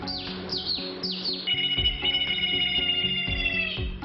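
A man whistles an imitation of a sparrow call: quick descending tweets in a short series, then a sustained trilling warble with a low pulsing undertone.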